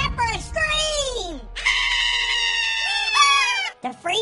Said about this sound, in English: Except for a scream!